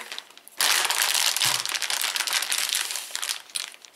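ASUS GeForce GTX 1070 STRIX OC graphics card set down on plastic film, giving a loud, sustained crinkling and crackling of the film for several seconds after a quiet start.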